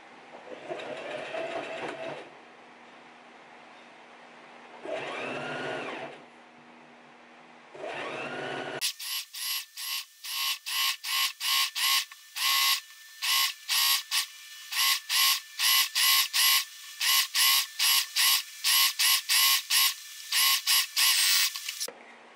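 A sewing machine stitching elastic into a mini skirt runs in rapid bursts, loud and close, the motor starting and stopping in a quick rhythm after a few softer handling sounds.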